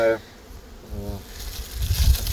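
Honeybees hum in a hive in a low, continuous buzz, close by, with a few louder swells and faint background rustling.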